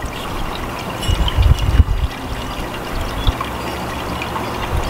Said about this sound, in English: the water coming over is cleaning out those cells some